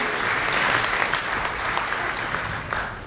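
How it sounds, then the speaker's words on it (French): Sustained applause from an audience at the closing ceremony of the 20th Gérardmer film festival, dense steady clapping filling the hall for about three seconds with no voices over it. "Vous pouvez de nouveau l'applaudir"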